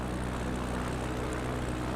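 A propeller airplane engine in a flight simulator, flying Idaho backcountry canyons, drones as a steady, loud, even hum that fills the whole stretch with no talking.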